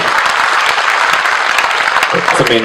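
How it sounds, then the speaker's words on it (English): An audience applauds loudly and steadily after the official launch of PIPOC 2013, the dense clapping filling the room without a break. "Give yourselves all a big, big round of applause"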